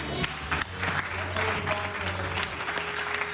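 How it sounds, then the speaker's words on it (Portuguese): A church congregation applauds steadily, dense clapping sustained throughout at moderate loudness, with faint voices mixed underneath. "Dê uma salva de palmas para essa vida."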